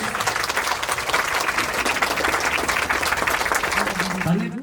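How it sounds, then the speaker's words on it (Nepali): An audience applauds at the foundation-stone ceremony for a ward office building, with dense, sustained clapping throughout at close range and some voices mixed in near the end. "सबैले ताली बजाएर"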